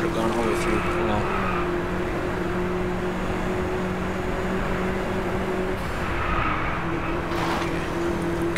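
Engine drone from a racing car in the driving game Driveclub, a steady tonal hum with shifting pitch that runs through the whole stretch, with a voice talking over it at times.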